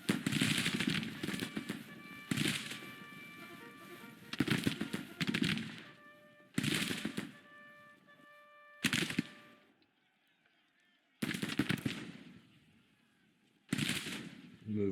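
Infantry line musket volleys in a Grand Tactician Civil War battle, a series of loud crackling bursts of rifle fire separated by short pauses, with a sustained horn-like tone between some volleys.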